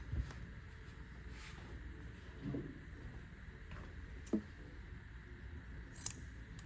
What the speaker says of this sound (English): This corner here is too thick, so we need to cut away the seam allowance.